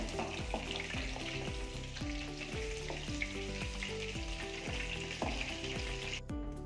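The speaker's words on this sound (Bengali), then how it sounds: "সোয়াবিনগুলো ভালো করে ভাজা হয়ে গেছে" Soybean chunks frying in hot oil, a continuous close sizzle with repeated sharp scraping strokes of a spatula in a steady rhythm, no voices.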